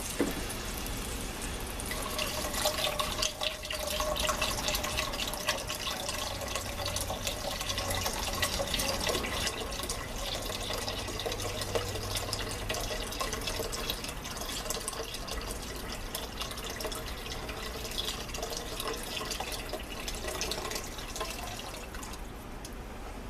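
Broth, 1.5 liters, poured into a pot for bread soup, a continuous splashing, trickling liquid sound lasting the whole stretch at a fairly even level, with no voices.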